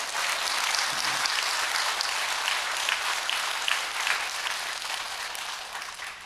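A church congregation gives a sustained round of applause, a thick, even roar of many hands clapping together that continues throughout and fades slightly near the end.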